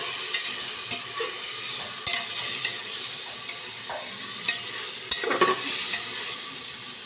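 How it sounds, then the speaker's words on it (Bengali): Spice masala for mutton curry is stir-fried in a pan, with a steady sizzle and repeated scraping stirs of the spoon, close and clear with no talk. "এই পর্যায়ে যে মশলাটা আমি বানিয়ে রেখেছিলাম ওটা দিয়ে দেবো, দিয়ে একটু ভালো করে কষতে হবে।"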